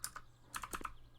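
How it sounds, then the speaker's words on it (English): A new mechanical keyboard gives a quick run of clicky keystrokes, faint and close. There is a short pause partway through, a low steady hum sits underneath, and nobody speaks. "I've got a new keyboard. It's a very nice new keyboard, mechanical keyboard"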